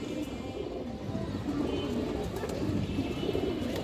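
A laddu-headed pigeon coos among other birds in a breeder's flock, a low murmuring drone that runs continuously and fairly close, with faint bird chirps scattered through it.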